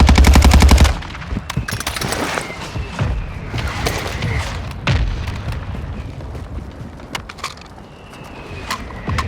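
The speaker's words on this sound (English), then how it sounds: "Mortar strike on the way." Heavy booming mortar strike explosions in the video game Call of Duty Warzone 2, a loud crackling blast at the start followed by scattered thuds and bursts of distant gunfire over a constant rumbling battlefield.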